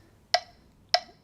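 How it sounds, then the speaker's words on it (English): Metronome ticking at about 100 bpm: two sharp, bright clicks evenly spaced, close and alone against a quiet background. "That's basic counting with the metronome."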